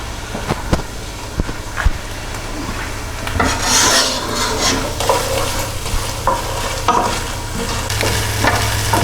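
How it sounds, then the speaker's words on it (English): Onions sweating in a pan for a lamb and onion gravy give a steady, close sizzle and frying crackle, with scraping and stirring strokes of a utensil against the pan throughout. "we're going to sweat our onions off for about 3 or 4 minutes, just until they start to go soft"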